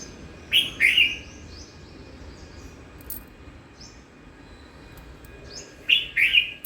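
Sparrow-like birds eating a food offering on the ground give two short bursts of bright chirps, one near the start and one near the end, separated by a quiet stretch.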